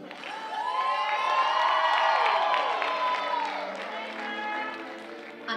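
School variety show audience cheering and screaming in one sustained, loud wave of high-pitched whoops and shouts that swells and then slowly tapers off, with a voice rising above the din.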